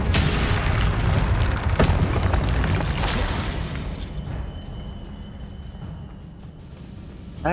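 A Confringo spell blast from Hogwarts Legacy erupts in a loud, booming explosion with crackling debris, rumbling on for several seconds before slowly fading into quieter tail noise.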